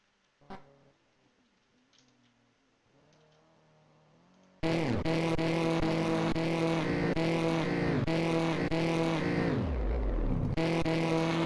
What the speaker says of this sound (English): We're going to ride on board car number 2.